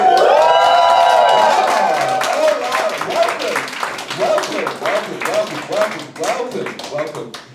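Live comedy crowd at a Berlin roast battle, loud cheering and whooping that builds into sustained applause and clapping, close and dense, with voices shouting throughout.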